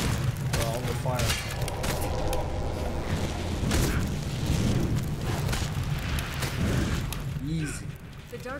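Gunfire and explosions in the Elex II battle, a busy mix of repeated shots, bangs and rumbling booms at a steady loud level, with speech running through it.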